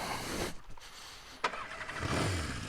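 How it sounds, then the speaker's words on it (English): A Honda CB550 motorcycle with stock pipes cranks and catches, then settles into a steady, fairly loud running rumble close by. "let's fire this bad boy up and get riding"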